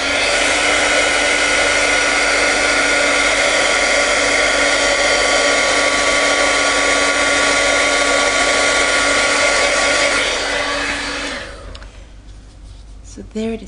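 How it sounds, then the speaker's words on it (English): A heat tool blows a steady, loud, whirring hiss to set glitter on a stamped Christmas decoration made with heat-and-stick powder, running continuously before cutting off, followed by a few faint handling clicks. "heat this up again just to make the glitter set"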